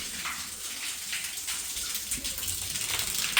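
Heavy rain runoff pours off a roof onto a building site under construction, a steady, dense, close rushing of water like a small waterfall with scattered splashes, no voices.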